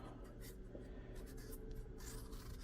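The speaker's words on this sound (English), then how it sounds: "we're just going to peel the zucchinis with a knife" A knife peels the skin from large zucchini, a run of quiet, close, rapid scraping strokes with no voices.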